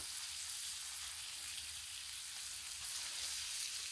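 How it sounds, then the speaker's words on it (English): Tri tip steak sizzles on a griddle with butter and garlic, a steady bright hiss that stays even throughout, close and unbroken, with no voices. "I'm moving the steak around to get all that buttery, garlicky flavor."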